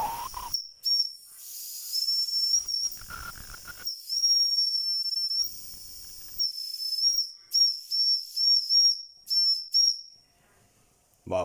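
A Wilesco D415 toy steam tractor heated by Esbit fuel tablets lets out a steady, shrill steam whistle over a hiss of escaping steam, breaking into a run of short, repeated whistle blasts near the end before the steam dies away.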